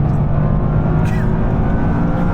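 A car accelerates hard on the Nürburgring circuit, its engine a steady loud drone with wind and road rumble heard from inside.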